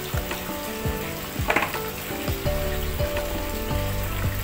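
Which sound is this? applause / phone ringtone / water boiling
water boiling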